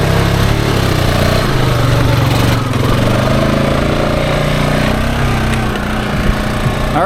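A Honda Foreman ATV's engine runs loud and close in reverse, a steady rumbling drone with slight shifts in load and a faint clunk near the end.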